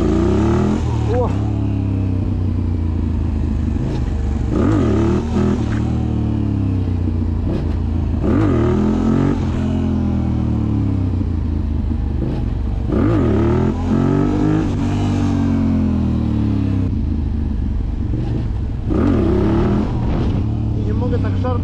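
A Yamaha MT-07 motorcycle engine revs repeatedly during wheelie practice, rising and falling in loud throttle bursts at close range with a rough, clattering idle between.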